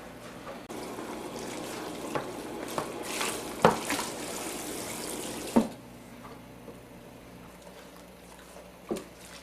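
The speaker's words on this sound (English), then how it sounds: "Once I've got it clean, I'll rinse it off again with some more hot water." Hot water runs from a tap to rinse something clean, a steady rushing stream for about five seconds with a few clunks, then it stops, leaving quiet room tone and one more knock.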